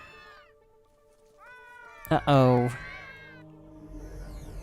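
In the video game Gravity Rush, a cat lets out a loud, drawn-out meow in the middle, framed by quieter tonal game sounds and a brief spoken exclamation.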